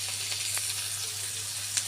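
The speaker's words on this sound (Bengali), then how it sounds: "লো ফ্লেমে আস্তে আস্তে আস্তে আস্তে লতিটাকে সুন্দর করে ভাজা ভাজা করব।" Dried taro stolons fry gently in a pan over a low gas flame, giving a quiet, even sizzle with a few faint crackles and a low hum beneath.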